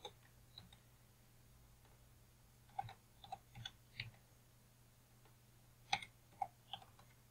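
Keys tapped on a computer keyboard while values go into a spreadsheet, a few quiet, scattered clicks and short bursts with pauses between them over a faint steady hum.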